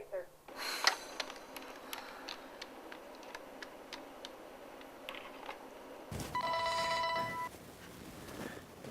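A telephone rings in an office during a call, a steady electronic trill from about six seconds in, following soft ticking and background movement.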